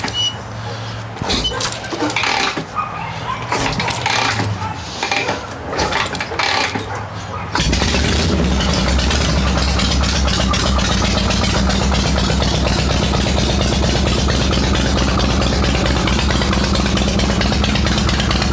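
Shovelhead chopper motorcycle engine, kick-started: several kicks and sputtering attempts, then it catches and settles into a loud, steady, close idle that lumbers on to the end.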